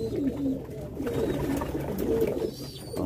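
Domestic pigeons coo steadily and close by around a water bottle, a continuous layered murmur of low throaty calls with soft rustling, no talking.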